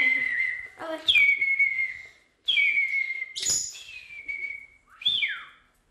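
A child whistles an imitation of a curlew's call on the Baie de Somme, giving three clear, close whistled phrases that each sweep up and then glide down in pitch, with short silent gaps between them.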